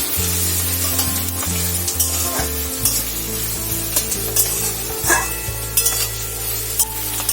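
Onion frying lightly in a pan until pale pink, a steady close sizzle with occasional stirring clinks, no talking.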